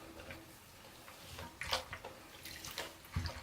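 Raw suri alpaca fibre rinsed through in water, soft faint splashing and running-water wash with a few brighter sloshes, quiet and close, no speech.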